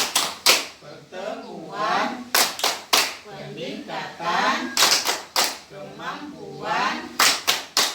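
A group claps in a sharp rhythmic pattern during an ice-breaking routine at an indoor family-assistance meeting, loud bursts of synchronized claps alternating with chanted words, a voice leading between them.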